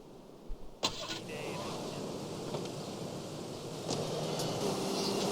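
Blister car in GTA III: after a brief clunk, an engine settles into a steady low hum, moderately loud, holding level with a slight lift near the end, no talk.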